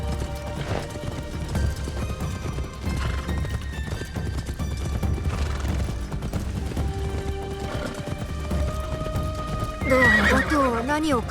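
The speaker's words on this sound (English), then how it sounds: "you'd have a horse" A horse gallops with rapid hoof beats and neighs loudly near the end in Assassin's Creed Shadows, all under continuous speech and game music.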